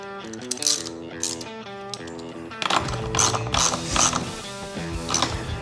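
A ratchet tightening 13 millimeter bolts with split washers while a detail cart is assembled: rapid, close metallic clicking in short runs, with louder, busier ratcheting in the second half.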